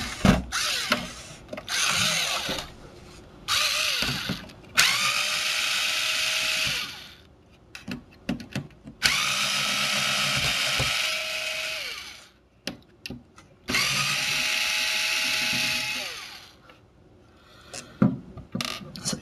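Repeated bursts of a power screwdriver whirring screws out of a PS3 console during a repair, several close, loud runs separated by short pauses and small handling clicks.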